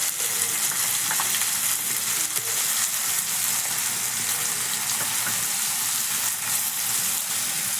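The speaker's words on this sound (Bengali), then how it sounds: "সর্ষে পোস্ত বাটা এবার আমি ভালো করে কষে নেব" Fish frying with mustard-poppy paste, salt and turmeric, a loud, close, continuous sizzle with faint stirring scrapes and small pops throughout, no voices.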